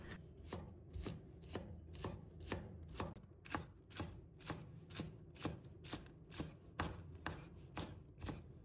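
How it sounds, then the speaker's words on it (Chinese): A knife chops a bunch of green onions into small scallion pieces on a board: steady, evenly spaced crisp thuds, close and clear, with no talking. "准备1把小葱，把它切成葱花"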